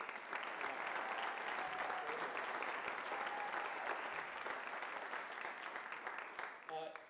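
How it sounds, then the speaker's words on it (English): Audience applause for a jazz band at a college jazz program concert, dense steady clapping from a large crowd that carries on for several seconds before tapering off near the end. "Can we get another round of applause for the band?"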